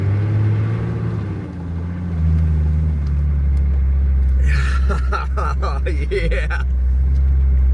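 A 4WD vehicle ploughs through a deep snowdrift across a mountain track in Spain, a steady loud engine rumble with crunching, churning bursts midway, while a voice speaks briefly over it.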